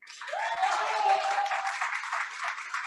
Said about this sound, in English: you can also join in clapping.